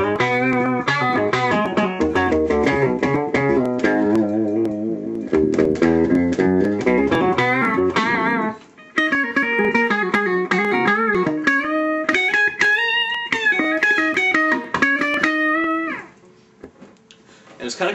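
A distorted electric guitar played through a Danelectro Chilidog octave pedal, gritty chords and sustained notes with a thick, slightly warbling lower tone, loud and continuous.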